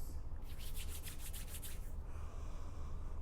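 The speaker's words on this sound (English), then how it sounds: "I'll rub the palms together and cup the nose" Palms rubbing together after a drop of essential oil is placed in the hand, a soft, close, steady swishing friction lasting about a second and a half, with no talking.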